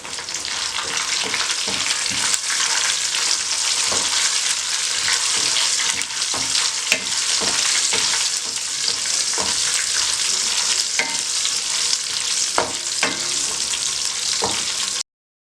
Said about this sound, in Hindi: मिर्चों को आपने हल्का सा फ्राई कर लिया।